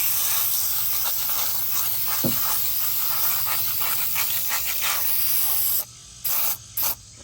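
Frost King foaming non-rinse coil cleaner sprays steadily onto RV air conditioner coils in a loud continuous hiss, then cuts off and gives two short final bursts.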